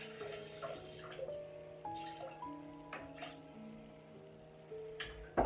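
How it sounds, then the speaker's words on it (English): Water is poured into a mixer bowl fitted with a dough hook for bread rolls, a soft trickle with ringing, shifting tones and a few light drips and clinks, fairly quiet and close. "So first of all, add your 350 milliliters of water."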